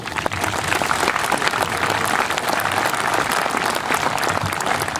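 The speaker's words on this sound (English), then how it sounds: "give yourselves all a round of applause." Sustained applause from a crowd at the Kontiki event at Arrowe Park, steady and dense clapping throughout with no talk over it.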